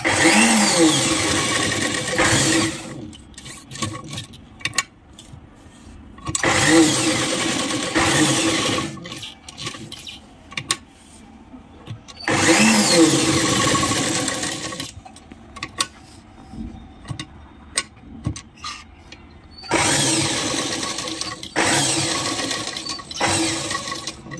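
A sewing machine runs a zig-zag stitch in several bursts of a few seconds each. Brief quiet pauses separate the bursts, and the whirring is steady and close.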